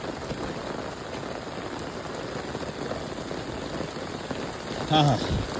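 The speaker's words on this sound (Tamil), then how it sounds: "காய்ந்திருந்த தாமரை குளத்துக்கு இன்று மழை அடிக்கிறது, அடமழை" Heavy downpour on a lotus pond in a home village, a dense steady hiss of rain throughout, with a brief tonal sound near the end.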